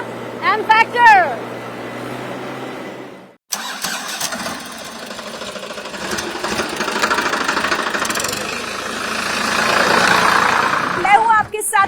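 A tractor engine in rural Churu, Rajasthan starts with a sharp jolt after a short spoken passage, then runs steadily with a loud, rough mechanical rumble and rattle, close up to the end.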